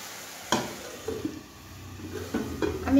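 A metal lid set onto a pot of Bengali mixed vegetable dal with tomato, carrot and potato, a sharp clink followed by a few lighter knocks over a low simmering sizzle.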